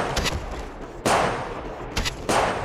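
Bursts of gunfire from the Apex Legends battle royale game: two loud, sharp volleys cut in abruptly, each trailing into a brief decay, with lighter scattered shots between them and no talking.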